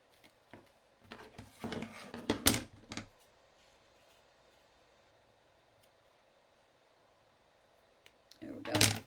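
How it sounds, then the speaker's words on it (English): Paper being trimmed for a Simple Stories graduation card, heard as a few clustered snipping and clicking bursts early on, a long quiet stretch, then another loud cut near the end. "So I'm going to trim that off."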